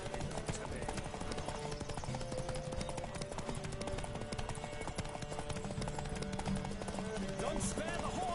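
Horse hooves galloping in a rapid, steady clip-clop during a race in the video game The Witcher 3, running the whole time under game music, with voices shouting over it.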